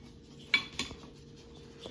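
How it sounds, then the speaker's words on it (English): A few light clinks and rubs as a shaved fennel salad with celery, fronds and pine nuts is tossed in a bowl, two distinct taps near the start then quiet handling. "now I'm going to put these pine nuts in here. I am going to give this a toss first."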